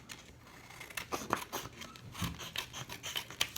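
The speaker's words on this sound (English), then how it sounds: "This has too much white on this side, so I'm gonna trim this as well" Scissors snip along the white edge of a plastic gummy bear bag, a quick series of soft, close crisp cuts and rustles.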